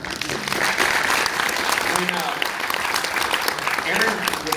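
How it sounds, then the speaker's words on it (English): Sustained applause from a Comic Con Liverpool 2020 audience, steady clapping filling the room for several seconds with a few voices mixed in. "I want a round of applause for that"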